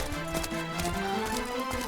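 Horse hooves clip-clopping in the Dragon Quest XI video game, a quick steady trot of hoofbeats over faint background music, no voices.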